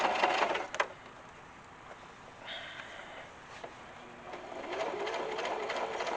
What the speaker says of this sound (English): I'm not pulling that through with my hand, I'm letting the machine do it, but I am guiding it